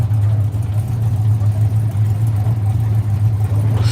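A Chevrolet Camaro engine at a drag strip gives a close, loud, steady low drone with a slight pulsing throb, holding at an even level for a few seconds.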